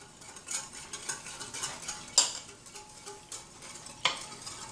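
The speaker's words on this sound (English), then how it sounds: "So we're just going to stir this up real good." A utensil stirs pickle brine seasoned with cayenne pepper in a container, producing soft irregular scrapes and liquid swishes with a few sharper clinks, quiet and close, with no voices.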